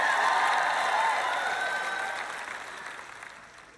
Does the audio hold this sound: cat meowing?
no